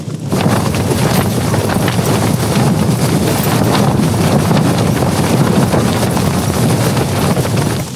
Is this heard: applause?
no